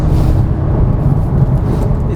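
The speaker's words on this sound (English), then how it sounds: "I could be enjoying this flat six" Porsche 996-generation 911 flat-six engine while driving, a steady loud low drone from inside the cabin with even road and engine rumble throughout, no talking.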